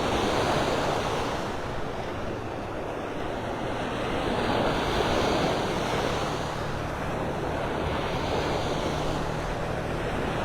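Ocean waves rolling onto the beach at Clam Pass Park in North Naples, Florida, a loud continuous wash of surf with wind buffeting the microphone and no voices.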